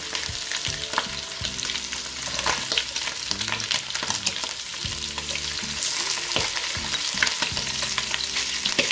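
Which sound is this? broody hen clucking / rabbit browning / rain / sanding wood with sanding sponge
rabbit browning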